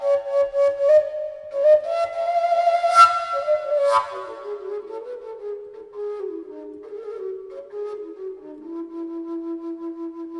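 Traditional Slovak shepherd's pipe or fujara, a breathy wooden flute tone holding a long melody that rises, swells, then settles into lower, softer sustained notes, played alone.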